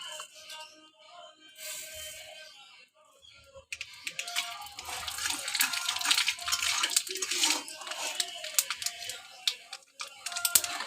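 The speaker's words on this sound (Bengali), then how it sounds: "আমি সর্ষেটাকে ফাটিয়ে দিলাম" Mustard seeds crackling and popping in hot oil in a black kadai, as a tempering for a fried raw mango dish. Sparse at first, the pops turn into a dense, rapid sputter up close.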